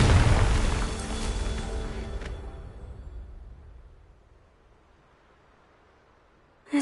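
A Confringo spell explosion in the video game Hogwarts Legacy: a loud, deep boom with crackling debris that rumbles and fades over several seconds into near silence, ending with a brief sharp click.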